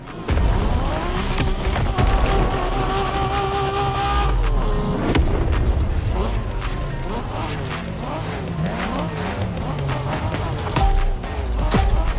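Race car engine revving and accelerating in The Crew Motorfest, a Japanese street-racing event, loud and continuous with rising and falling engine pitch, tire squeal and brief skids, over a steady game backdrop.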